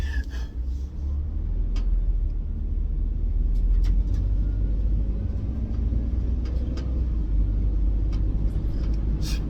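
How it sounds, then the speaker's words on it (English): Road traffic with cars coming to a sudden stop: a continuous low rumble of vehicles and engines for about ten seconds, fairly loud and steady, with a few faint scattered clicks and no clear talking. "Traffic stopped very fucking suddenly."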